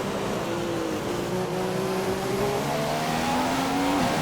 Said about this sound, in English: Cars coming out of the pits, Perez being one of them,